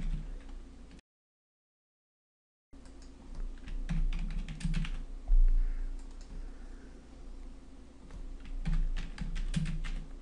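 Fingers type on a computer keyboard while text is entered into Office SmartArt boxes, with close, crisp key taps in irregular bursts broken by a short silent gap.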